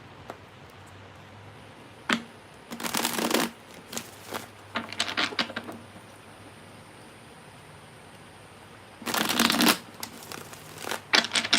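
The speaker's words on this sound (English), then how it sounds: "And one more shuffle for your person." Several bursts of tarot cards being shuffled, crisp riffling rustles close by with quiet pauses between them.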